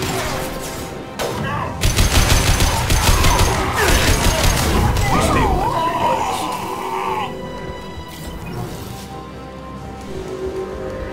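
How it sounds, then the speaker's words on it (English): A firefight in Mass Effect 2 rattles with bursts of gunfire, crashes and mechanical clatter, dense and loud for several seconds before easing off, with brief voices in the mix. "Major firefight here."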